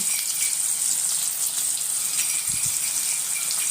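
Oil sizzles steadily in a pan during the cooking of a brinjal masala, a continuous bright hiss of frying with a couple of soft low knocks near the end.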